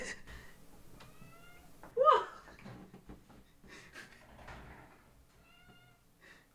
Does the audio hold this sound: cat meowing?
yes